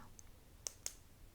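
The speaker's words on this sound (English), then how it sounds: "Click 1 or click 2?" A few soft, sharp clicks sound one at a time against near silence, part of an ASMR cranial nerve hearing test, two of them standing out more clearly than the rest.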